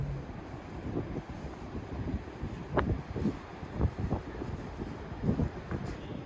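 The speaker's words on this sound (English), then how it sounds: "Alright, super windy, stop recording." Strong coastal wind on Victoria's Surf Coast buffets the microphone in a steady low roar, with gusty bursts and rumbling thumps throughout.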